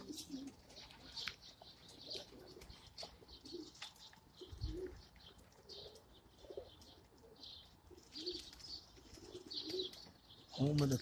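Racing pigeons coo softly at a loft, repeated low burbling calls with occasional flutters and light chirps, fairly faint and distant, ending with a louder nearby coo.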